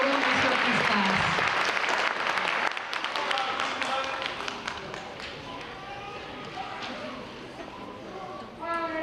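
Applause at a fifth-grade moving-up ceremony, dense clapping at first that thins out after a few seconds into scattered claps beneath voices talking.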